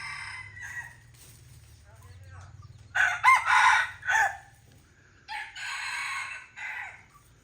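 A rooster crows a few times at close range, each call loud and drawn out, with a low steady hum underneath and pauses between calls.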